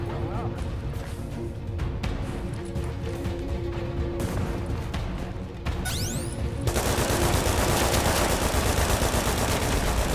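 Dense, sustained gunfire in the video game The Division during a fight to secure a refugee camp, loud continuous shooting with a brief sweeping whine partway through and voices talking over it.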